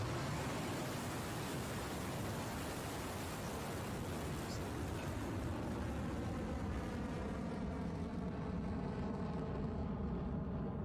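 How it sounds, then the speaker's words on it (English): A Rocket Lab rocket lifts off, its engines producing a continuous broadband roar that fills the clip, heavy and crackling, slowly thinning at the top as the vehicle climbs away. "We have liftoff."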